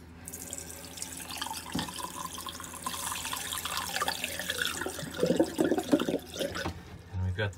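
A newly installed sink faucet on a boat, fed by a freshwater pump, runs water into the basin: a faint, steady gush and splash that grows louder and more irregular near the end.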